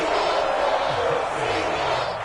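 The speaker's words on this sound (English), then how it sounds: "Crowd getting in it a bit already." A stadium crowd in a Madden football video game roars and cheers continuously, a loud, dense wash of noise under a commentator's voice.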